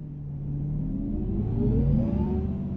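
A bus engine in the driving game Bus World, on an Istanbul map, revs up smoothly with a rising whine, loud and steady throughout with no talk.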